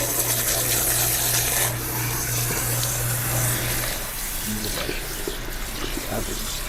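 Water runs steadily from a salon sink tap while hair is rinsed, a continuous close hiss and splash that changes slightly as the stream hits hair and basin.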